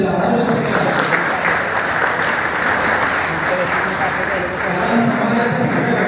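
Sustained audience applause at a teachers' felicitation ceremony held by a local education office, steady and fairly loud, with a voice speaking over the clapping.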